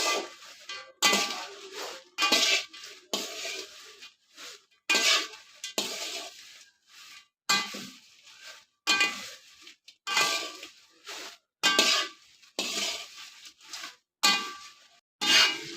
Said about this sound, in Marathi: इथे मी बेडगी मिरच्या भाजून घेते